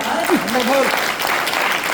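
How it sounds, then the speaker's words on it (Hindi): Clapping from an audience at a chemistry lecture, a brief burst of hands heard under a voice talking over it. "अरे ताली बजाने की बात है"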